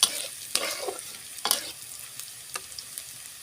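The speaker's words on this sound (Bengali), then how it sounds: "আজকে আমি লাউয়ের খোসা আলু ভাজবো" Bottle gourd peel and potatoes fry in a pan while being stirred, with a soft underlying sizzle broken by sharp scraping strokes of the utensil, several louder clatters near the start and middle, all close and without speech.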